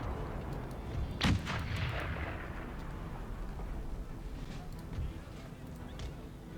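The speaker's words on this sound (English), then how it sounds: "Routing our own cavalry with the damn artillery." Cannon and artillery fire in Empire: Total War, a sharp boom with a rolling low rumble followed by scattered distant shots over a murmuring battlefield background, with someone talking throughout.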